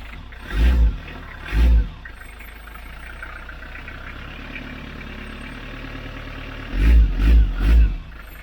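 A Beta Marine diesel boat engine on a sailing yacht runs after its fuel system is bled, a steady low idle broken by several loud throttle bursts, two early and three close together near the end.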